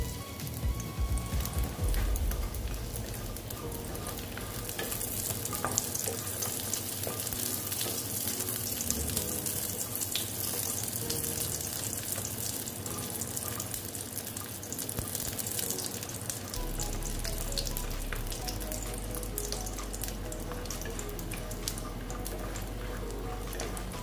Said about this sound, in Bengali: আমি প্রথমে যে দেখো বড়িগুলো ভেজে নেব